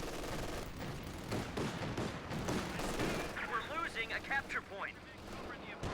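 MG42 machine gun fire in a strategy video game: rattling bursts and scattered shots mixed with battle noise, partly under a commentator talking.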